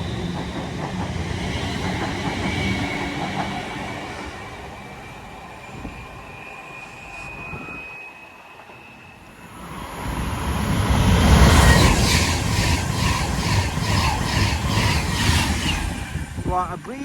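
A passenger train passing through a station in Cheshire, a rumbling roar that builds from a quieter background to a loud rush in the second half, with a voice and other station sounds mixed in.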